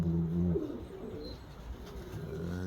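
Pigeons coo steadily nearby, low rolling throaty calls repeating through the moment with no voices.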